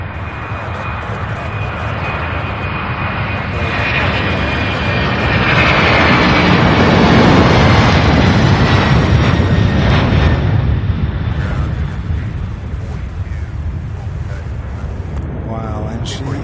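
An airliner taking off at Louisville International Airport, a loud, sustained jet roar that swells to a peak midway and then eases as the plane climbs away, with faint radio chatter underneath.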